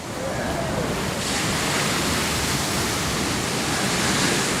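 Ocean surf breaking offshore, with waves up to 18 feet, sounding as a dense, continuous roar of crashing water and spray that swells slightly midway and stays loud throughout.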